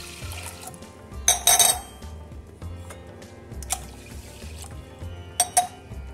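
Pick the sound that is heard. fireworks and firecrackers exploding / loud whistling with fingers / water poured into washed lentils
water poured into washed lentils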